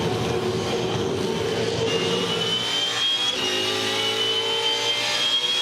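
A Supercars race car on soft tyres at the Darwin Triple Crown roars past with a sustained engine whine that shifts pitch as it goes by, loud and continuous with no talking.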